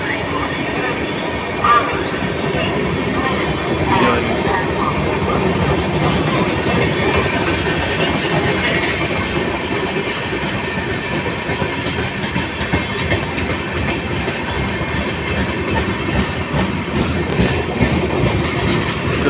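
The Ujjaini Express rolls slowly into a railway platform at Meerut, a continuous rumble and rattle of wheels and carriages, fairly loud and steady throughout.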